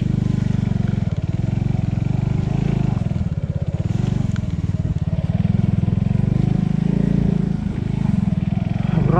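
An enduro motorcycle ridden off-road toward a swamp, its engine droning loud and steady close up, with a faint rattle and crackle of the machine working over rough ground.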